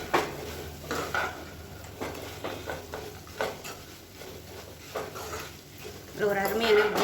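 Chicken fry being stirred and tossed in gravy in a pan, with repeated scraping and clinking of a spoon against the metal pan in short bursts, a faint sizzle underneath, and a louder scrape near the end.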